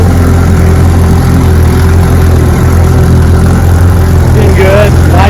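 A restored Johnson outboard motor runs on a test, giving a loud, steady, buzzing drone up close with no break, while a voice speaks briefly over it near the end.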